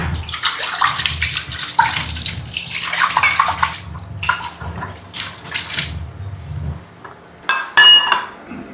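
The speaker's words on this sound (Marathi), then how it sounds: "आता आपण कपही पण धुतोय" Running water splashes in bursts as cups are rinsed under a tap, with a few clinks of china near the end.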